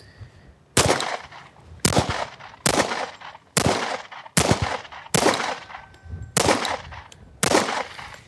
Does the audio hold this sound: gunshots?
yes